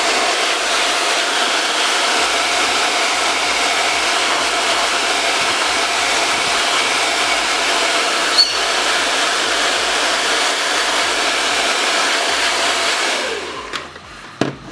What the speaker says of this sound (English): I'm just going to heat it up with a hair dryer